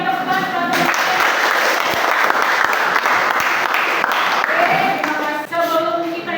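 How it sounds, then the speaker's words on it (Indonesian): A classroom of students claps loudly together, a dense burst of applause that swells in the middle, with voices audible at the start and as the clapping fades out. "berikan tepuk tangan"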